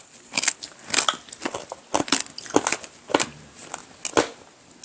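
Crunchy sugar-free isomalt tanghulu candied fruit being bitten and chewed up close, a series of sharp, crackling crunches at an irregular pace with no talk.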